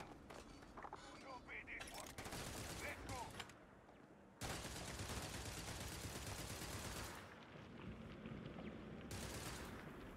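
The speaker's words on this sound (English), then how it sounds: "What are they shooting at?" Game gunfire rattles in dense, continuous bursts like a machine gun, near and loud. A few short pauses break it up, with faint mechanical clanks at the start.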